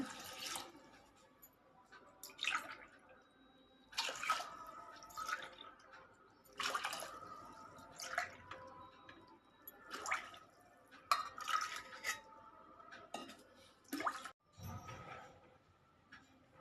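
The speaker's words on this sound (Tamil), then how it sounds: "அரிசி அளந்து அதே டம்ளரில் நாலரை டம்ளர் தண்ணி ஊற்றிக்கலாங்க" Water poured from a tumbler onto soaked rice in a cooker pot for sweet pongal, several short splashing bursts with quiet pauses between, close and soft.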